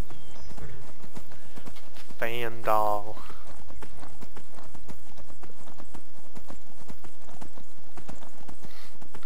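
Rapid clip-clopping horse hooves gallop steadily throughout in the video game Skyrim, loud and close, with a short horse whinny near the start.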